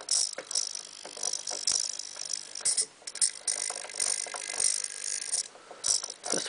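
A servo on an RC Liebherr A 900 C Litronic model excavator, run from a servo tester through a hydraulic cylinder to lift the wheels, gives a steady close mechanical whir with fast gear ticking and ratcheting throughout.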